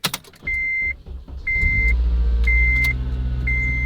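An 8th-generation Honda Civic Si's engine catches after a brief crank and settles into a low, steady idle, close by, while a high warning chime beeps four times at an even pace from the start.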